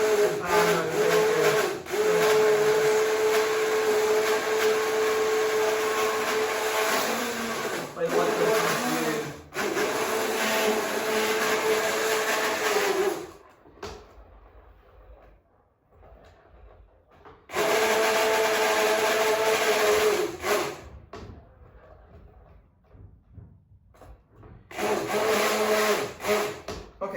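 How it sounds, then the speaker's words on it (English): An electric blender purees a chicken, leek and bacon soup, a loud whirring drone that runs steadily, cuts out for a few seconds, starts again, pauses once more and ends with a final burst. "So that's your soup blended."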